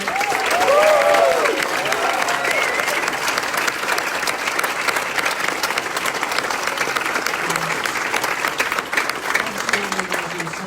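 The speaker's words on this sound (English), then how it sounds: "Big round of applause for all our winners tonight." Sustained audience applause for award winners at an awards evening, a dense steady clapping crowd filling the room throughout, with brief cheers early on.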